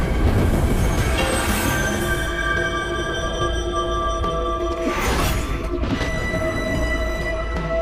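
A train runs along the rails with a loud, steady rumble that fills the whole stretch, with metallic wheel squeal and clatter rising briefly partway through; no voices.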